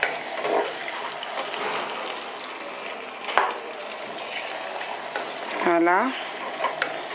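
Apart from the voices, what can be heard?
spices frying in a pan while being stirred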